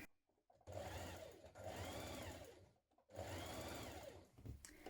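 A sewing machine stitches a dress seam in three close bursts of rapid mechanical whirring, separated by short pauses, with faint handling noises between runs.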